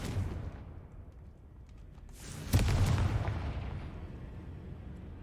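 A Confringo fire spell in Hogwarts Legacy bursts with a sudden loud explosion in a catacomb after a stretch of low rumbling ambience, then rolls into a long, fading, crackling blast tail.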